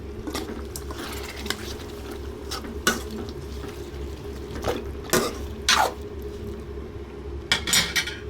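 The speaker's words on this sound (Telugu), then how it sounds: "ఇప్పుడు ఇందులో మనం ఉడికించిన మటన్ వేసుకునేద్దాం. ఇప్పుడు ఒకసారి కలుపుకుందాం." A spoon stirs boiled mutton into curry in a pan with scattered scraping clinks against a steady low kitchen hum.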